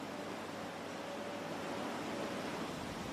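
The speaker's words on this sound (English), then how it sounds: "Days of heavy downpours turned this gentle stream into a raging torrent." Floodwater from days of heavy downpours rages through a stream swollen into a torrent past riverside houses, a steady, dense broadband roar of rushing water that holds evenly throughout with no voices.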